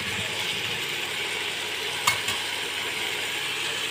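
Ridge gourd and potato pieces fry in a pan under a steady bright hiss of oil, with light stirring and one sharp clack of the utensil near the middle, close and even, no speech.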